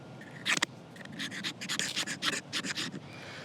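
Helle Bleja folding camp knife spine scraping a ferrocerium rod, a series of short, bright rasping strokes close up, the first stroke louder and the rest coming in quick bursts with no talk.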